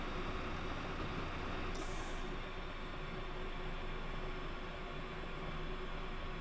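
A locomotive in Train Simulator on the Riviera Line slowing down, with a steady low rumble of rolling wheels and a short hiss of air brakes released early on, continuous and fairly quiet.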